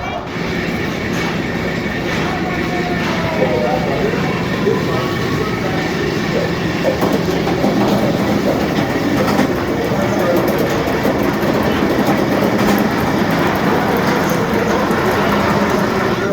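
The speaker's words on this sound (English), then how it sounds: "Time for a B&M wing coaster, Gatekeeper." Steady rumbling roar of the B&M wing roller coaster Gatekeeper at Cedar Point, a continuous loud mechanical rush with rattling clatter, heard alongside voices in the background.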